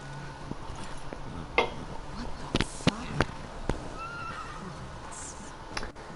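Horses neigh and whinny a few times in The Last of Us Part II, brief mid-loud calls over a low ambient game background, with a faint voice nearby.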